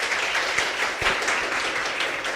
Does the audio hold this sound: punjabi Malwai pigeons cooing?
no